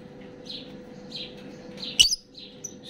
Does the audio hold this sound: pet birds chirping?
yes